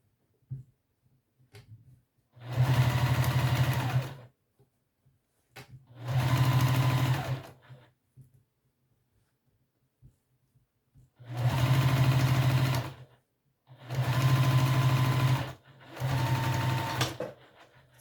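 A sewing machine top stitching runs in five separate bursts of about one to two seconds each, loud and close, with quiet pauses between the runs and no talking.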